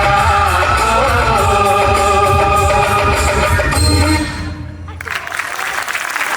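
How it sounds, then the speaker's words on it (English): Audience claps after a pre-primary dance performance at a school annual function. The music plays loudly at first, then cuts off, and clapping continues from the crowd. "Big round of applause to our Swamini"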